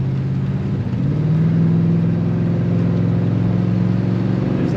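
A 1970 Buick Electra 225 convertible accelerates with a steady, close engine drone that swells slightly as it pulls, a continuous smooth hum with no talk over it.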